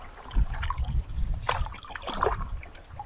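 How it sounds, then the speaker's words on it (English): Solo canoe paddling on Clearwater Lake in the Boundary Waters: soft, close paddle strokes and water splashes come at an uneven rhythm over quiet lake ambience. "so we'll be paddling for a while"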